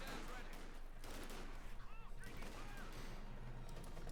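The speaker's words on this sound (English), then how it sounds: "Bit of shooting here." Gunfire from a Company of Heroes 2 match between OKW and USF forces, with an MG-34 machine gun engaging US cavalry: a dense, continuous clatter of distant shots under steady background noise, with a commentator talking over it.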